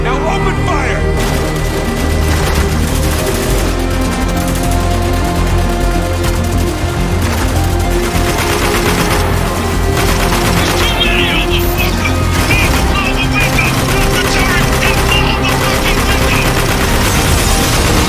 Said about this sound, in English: Return fire! They will kill us if we don't! Now open fire!